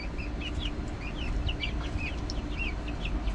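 Chickens cluck and chirp inside a coop, a steady mix of short repeated calls over a noisy, rumbling background, fairly close and moderately loud.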